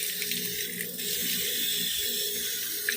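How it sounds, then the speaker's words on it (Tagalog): An outdoor water tap runs with a steady, bright hissing splash that stays loud and close for the whole few seconds, with no speech. "i-open na to ning gripo."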